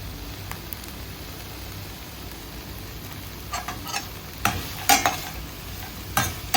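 Soft, steady sizzle of cashews and onions sautéing in a pan for paneer gravy, with occasional sharper stirring scrapes and taps toward the end.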